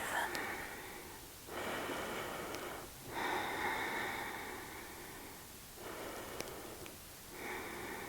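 Slow, steady breathing during a seated hatha yoga stretch: soft airy inhales and exhales alternate in long, even waves, each lasting a second or two. The breaths are close and gentle, heard alone with no talk over them.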